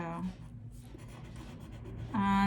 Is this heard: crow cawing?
no